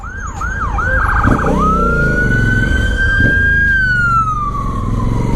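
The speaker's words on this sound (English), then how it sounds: "Ambulance." A loud, nearby ambulance siren gives a few quick warbling yelps, then settles into a long rising and falling wail over a low engine rumble.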